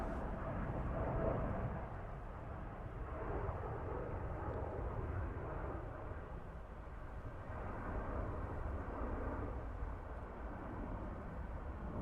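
Embraer airliner landing at Dublin Airport, a steady broadband engine and air roar sustained throughout at moderate distance, fairly loud with no talk.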